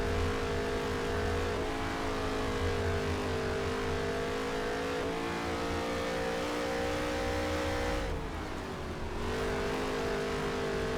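Race car engines roar at a steady high drone in NASCAR Heat 3 during a 50-lap career race at Taggart. They hold close and loud, with slight pitch rises and falls and one brief dip as a car lifts off and back on.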